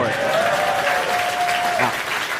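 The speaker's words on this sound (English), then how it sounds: "And you guys can clap." A crowd at a Robinhood summit keynote applauds steadily in a large venue, a dense, continuous wash of clapping, with a sustained electronic tone underneath that cuts off partway through.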